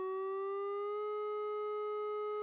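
A sustained, reedy tone from a Computone Lyricon wind synthesizer holds steady and clear, its pitch drifting gradually upward over a couple of seconds as the tuning is raised, with nothing else audible.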